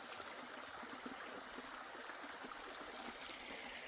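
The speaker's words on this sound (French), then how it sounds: "le petit ruisseau qui est juste là" A small stream beside the GR653 pilgrimage trail on the Voie d'Arles toward Compostela trickles with a faint, steady, even rush of water, with no voices heard.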